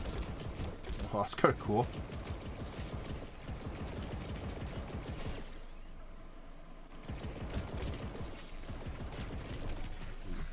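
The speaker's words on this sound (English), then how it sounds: "Looks like that's the gun in operation already" A new weapon in the video game Planetside 2 fires in rapid bursts that sound like a mechanical clatter, with a brief pause midway through. A player talks over the firing.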